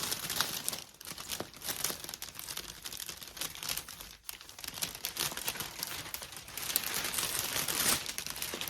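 Tape is pulled and pressed down while a jumbo plush gift is wrapped, producing loud, continuous crinkling of wrapping material with sharp tearing rasps, close up and without speech.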